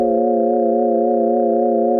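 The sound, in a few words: synthesizer sine wave chord with pitch modulation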